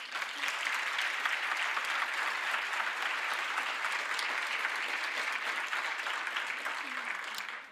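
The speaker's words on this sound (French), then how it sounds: "nos étudiants organisateurs que je vais vous demander d'applaudir bien fort." Audience at a university cosmetics event applauding the student organizers, a sustained dense wash of clapping with a few faint voices beneath.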